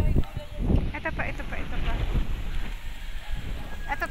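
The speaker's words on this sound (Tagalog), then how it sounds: "Mahangin. Presko ang hangin." Gusty wind blows across an open farm field in the provinces, buffeting the microphone with loud rumbling roar, while a person talks over it.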